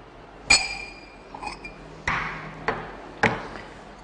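Sharp glassy clinks and taps from a glass measuring cup while an ingredient for a float drink is poured, several distinct hits spaced about a second apart against a quiet room.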